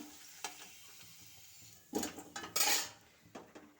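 Fried potatoes are scooped from a pan into another pot: metal utensils scrape and clink against cookware in a few separate knocks, then a louder burst of scraping over a faint sizzle, close by with no talk.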